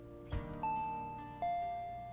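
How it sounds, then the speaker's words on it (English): Doorbell in the Higurashi video game rings twice, each a clear, close electronic ding-dong chime that decays slowly, with a faint soft thump just before the first ring. "Someone rang the doorbell"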